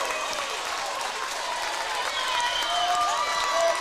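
A gym crowd at a high school volleyball match, Hill City against Sioux Valley, roars with steady cheering and applause that swells slightly toward the end, under an announcer's commentary.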